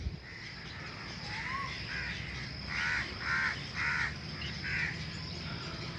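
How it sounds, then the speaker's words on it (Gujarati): Birds calling in a garden, with several harsh crow caws in a short run midway over a faint steady outdoor hum, moderately distant and fairly quiet. "અહીં અનેક પંખીઓ પોતાના અવાજની અંદર ઈશ્વરને પ્રાર્થના કરતા હોય, આભાર માનતા હોય એવું લાગે છે."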